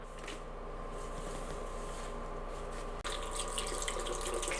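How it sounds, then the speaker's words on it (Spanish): Bougainvillea leaves being washed under a running kitchen tap, a steady close stream of water splashing with a brief interruption and slightly brighter flow afterward, no talking. "todas estas que están por aquí las vamos a lavar muy bien lavaditas"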